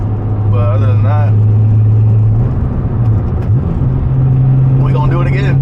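Inside a tuned Acura TL Type S, a steady loud engine drone and tire roar rise in pitch as the car accelerates, with a person talking over it.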